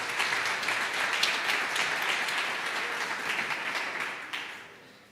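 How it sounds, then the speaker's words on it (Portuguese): A church congregation applauds, dense sustained clapping from many hands filling the room, holding steady before tapering off at the end. "É isso, aplauda Jesus, irmãos."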